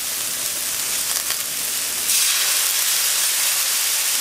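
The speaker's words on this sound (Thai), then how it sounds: "เดี๋ยวเราก็จะใส่น้ำซุปไปนะคะ" Broth poured into a hot wok of stir-fried cabbage with shrimp, giving a loud steady steaming hiss that surges sharply partway through and holds, with no talk.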